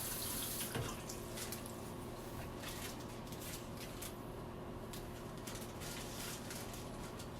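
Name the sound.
water running from a tap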